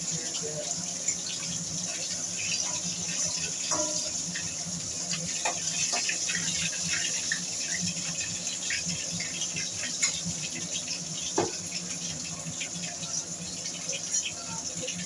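Water runs from a tap in a steady gush while fish are washed, with light rattles and splashes of handling mixed in at moderate, close range.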